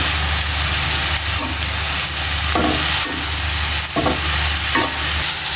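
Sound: leafy greens frying with onion and green chilli in oil

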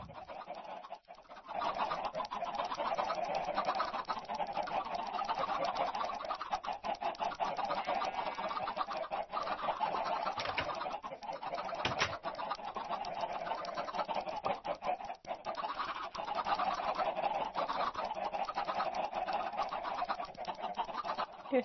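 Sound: chickens clucking in Minecraft video game

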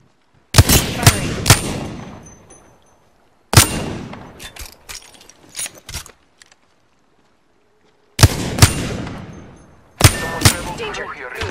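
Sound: gunfire in the video game Apex Legends

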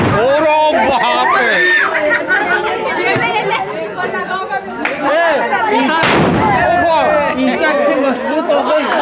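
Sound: firecrackers exploding at Ravan Dahan festival

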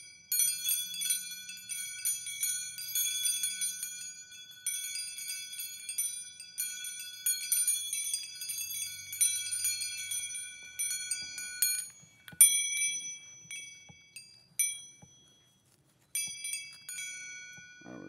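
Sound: bells and wind chimes ringing

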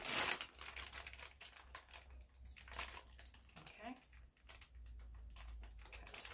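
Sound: pushing something into a crinkly plastic bag

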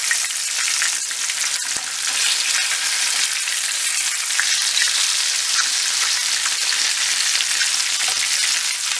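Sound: chicken pieces frying crisp in mustard oil

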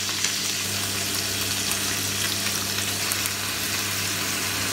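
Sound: octopus caramelizing in a non-stick pan as honey is added

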